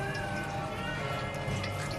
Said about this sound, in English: that is the water flowing through